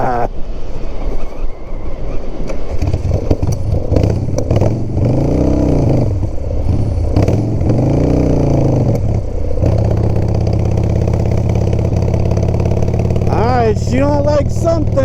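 A Harley-Davidson FXR motorcycle engine, long off the road with a questionable carburetor, runs unevenly and rough, its pitch wavering and surging throughout, with wind noise and someone speaking over it.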